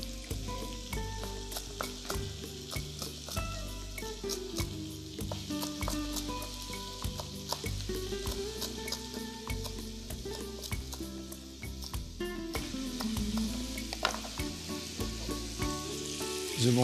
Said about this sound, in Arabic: نزيدو لهم النار، نخلوهم يتقلاو مليح